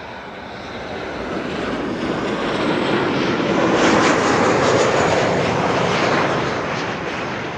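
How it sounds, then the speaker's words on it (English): A KLM Boeing 737-800 arriving at Amsterdam Schiphol produces a loud, broad jet roar that swells as it passes nearby and then slowly eases off. "This was KLM flight 1406 arriving from Paris, a 737-800"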